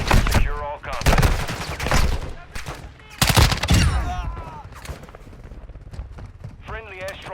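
Bursts of Call of Duty gunfire crackle through a combat scene, loud rapid volleys that rise and fall under and between voices talking over the action.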